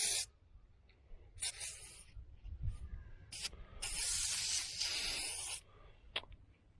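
Aerosol spray can spraying onto the body of a 1972 Chevy Nova during paint stripping, several short hissing bursts followed by one long sustained spray, close up, with no talking.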